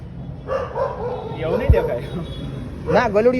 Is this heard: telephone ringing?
no